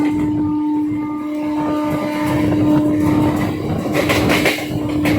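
A MEMU inter-city express rolls through Kadiyam station without stopping, heard from inside as a steady loud rumble with a humming motor tone and rattling toward the end.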